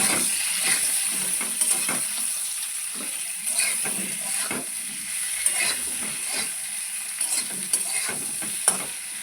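Potato pieces with a little turmeric and salt fry in oil in a pan, a steady hiss broken by scraping stirs and small crackles, close and continuous with no talk.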